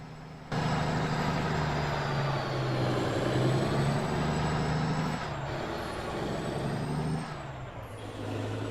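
Simulated heavy truck driving in American Truck Simulator on PC: a steady, loud engine drone with low rumble and faint high whine runs throughout, with no voices.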